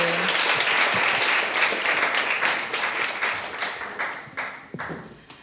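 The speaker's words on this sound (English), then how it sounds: "And everyone, one more round of applause for Annie." Audience applause for a speaker at the Carbon Newbie Summit during Climate Week NYC 2023: a dense, steady burst of many hands clapping close by, gradually thinning and fading toward the end with a few scattered final claps.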